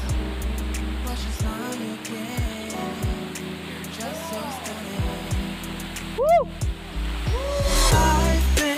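Curug Pamutuh, a waterfall in the forest at the foot of Mount Galunggung in Tasikmalaya, pours in a steady, even rush of falling water, with a few faint higher chirps and tones above it.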